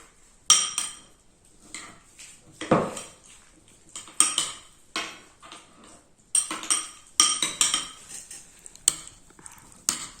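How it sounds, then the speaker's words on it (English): Bruschetta topping seasoned with black pepper is mixed in a bowl, with a spoon clinking and scraping against the dish in irregular bursts, close and crisp with short quiet gaps between strokes. "And now we mix it."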